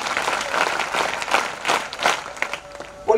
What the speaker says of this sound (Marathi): एकदा जोरदार टाळ्या होत्या डबल